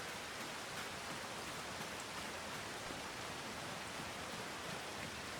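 Steady, dense rain hisses continuously without a break, an even wash of falling water with no voices, in the video game Farming Simulator 25.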